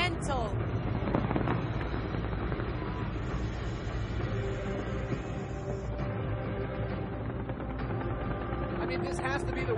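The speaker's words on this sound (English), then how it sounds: "The fireworks are actually going off another building." A fireworks display bursts from the tops of tall buildings in the United Arab Emirates, with dense, continuous crackling and booming blended with a roaring crowd and faint voices throughout.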